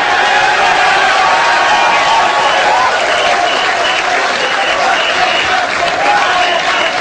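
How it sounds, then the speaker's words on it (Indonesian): Loud, dense applause from a large audience at a live stage magic duel, cheering for the performer Limbad, sustained and steady with no letup across the whole stretch. "Lagi tepuk tangan untuk Limba."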